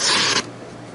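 A CRKT Prowess knife slicing through heavy-duty stock paper gives one short, loud, raspy cut that lasts under half a second and then stops, leaving quiet room tone.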